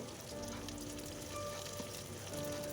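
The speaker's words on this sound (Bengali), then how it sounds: "মাছ ভাজা ডিম ভাজা আমার হয়ে গেছে।" Fish and eggs fry in a pan for a khichuri meal, giving a soft, steady, unbroken sizzle with no talking.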